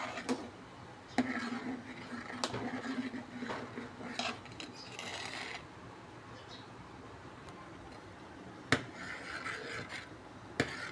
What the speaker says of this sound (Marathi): आता असं चाळत राहायचं, म्हणजे ते बुडाला लटकत नाही.